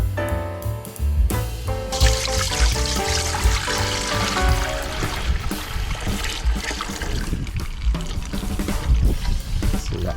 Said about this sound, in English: See, that pours quite nicely through there.